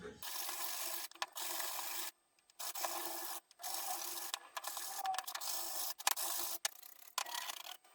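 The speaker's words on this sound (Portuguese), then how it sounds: "agora eu vou só dar uma lixadinha nas pontas só para tirar esse bicudo aqui" A wooden coffee filter stand is hand sanded along its edges to round off the sharp points, with a close, raspy rubbing in repeated strokes broken by short pauses.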